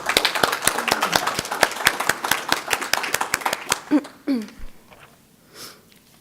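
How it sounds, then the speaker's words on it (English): A small symposium audience gives a speaker named Nolan a round of applause, a run of distinct close hand claps that thins out after about four seconds into scattered sniffs and quiet murmurs. "Let's give Nolan a round of applause"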